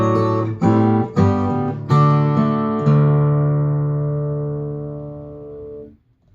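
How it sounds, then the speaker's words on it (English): Fingerstyle acoustic guitar plays a short phrase of plucked notes and chords, a few quick attacks and then a final chord left ringing for several seconds before fading, close and solo with no voice. "So this is what we have so far for measure 31."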